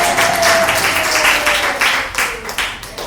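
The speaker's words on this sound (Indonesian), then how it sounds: "Beri tepuk tangan untuk Asep dong." Applause from a church congregation for a man, a steady wash of clapping that swells and fades over a few seconds, with faint voices mixed in.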